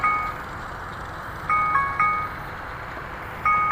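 Electronic alarm beeping in repeated short bursts of a two-tone chime, at about 0 s, 1.5 s, 2 s and 3.5 s, moderately loud over steady background noise, with no talking.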